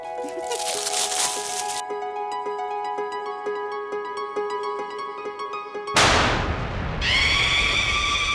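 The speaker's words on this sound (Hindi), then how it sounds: "मैंने दुकान वाले से कहा था एक छोटा सा पटाखा रख देना, ताकि जब माया बॉक्स खोले तो एक छोटा सा धमाका हो" A small firecracker inside a gift box goes off as a single sudden, sharp blast over light background music.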